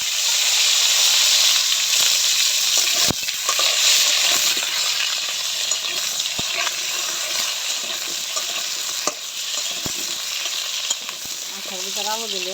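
Potatoes frying in hot oil in a wok, ready to go into a thin chicken curry, give off a loud, steady sizzle with crackling spits that runs unbroken throughout.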